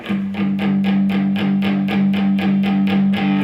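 An electric guitar with distortion plays a steady run of strummed chords, about a dozen even, loud, gritty hits with a sustained drone underneath.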